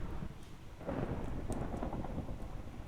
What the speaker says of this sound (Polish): Mamy burzę na zewnątrz.